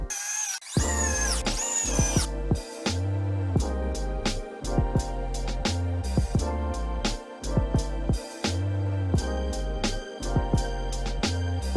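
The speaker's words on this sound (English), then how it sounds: "lining up the drill underneath and then drilling it in from the bottom" A power drill bores up into 3/4 inch plywood from underneath while building a wall-mounted entertainment center, with repeated short bursts of whirring separated by brief pauses and stutters, loud and close with no talking.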